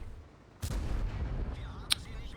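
A tank cannon fires in a tank video game with the Kampfpanzer 50 t, a sudden heavy boom that rolls on as a rumbling tail, then a sharp metallic crack near the end, with no talking.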